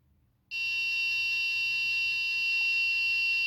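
A steady, piercing electronic buzzer tone from an MQ-2 gas sensor on an Arduino Uno, triggered by incense smoke, starts abruptly and holds loud and continuous, with no voices.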